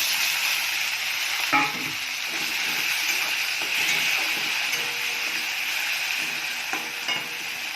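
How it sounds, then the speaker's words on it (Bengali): Ginger frying in oil in a pan for an Indian dish, giving a steady close sizzle with occasional stirring scrapes and clinks throughout, with no voices. "এবার আমি আদাটা দেব, তেলের মধ্যে একটু ভেজে নেব।"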